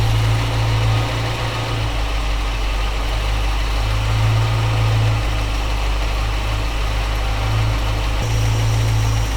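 A panel truck engine idles up close with a loud, steady low rumble, its hum shifting slightly in pitch as the RPM is turned back down, with no voices.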